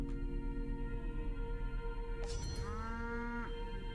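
Cattle lowing in the video game Pathologic 3, a drawn-out moo rising over a steady droning game ambience, with a second shorter call toward the end.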